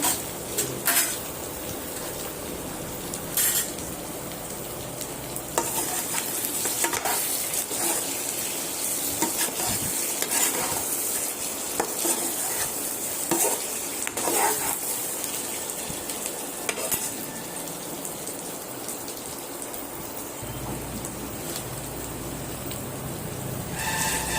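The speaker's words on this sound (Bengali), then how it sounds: "পটল আর আলু ভাজাটা দিয়ে দেব দিয়ে ভালো করে কষিয়ে নেব" Pointed gourd and potato pieces stir-fried in oily spice paste in a pan, continuous sizzling and crackling broken by repeated scraping stirs of a spatula, close and steady with no voices.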